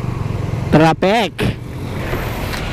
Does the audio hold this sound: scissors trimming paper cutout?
no